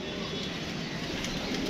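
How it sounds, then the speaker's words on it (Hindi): A pigeon arrives on a rooftop, its wings beating in a soft, continuous broadband flutter. The sound is close, steady and fairly faint, with no talk. "ये देखें दोस्तों ये आ रहा है कबूतर"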